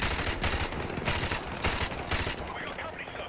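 Machine gun fire in Call of Duty: Modern Warfare Remastered, rapid overlapping bursts of shots in a dense battle mix that ease off slightly toward the end.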